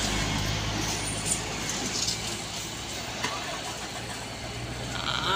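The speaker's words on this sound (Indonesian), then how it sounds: "ini dia truk Giga, langsung digas" A heavily loaded Isuzu Giga truck carrying building materials climbs a steep hill at full throttle, its engine a continuous low rumble at moderate distance, with no talking.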